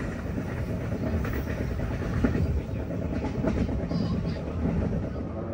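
Serayu economy passenger train rumbling steadily along the rails in Indonesia, a continuous dense roar with faint rhythmic clatter heard from inside the carriage.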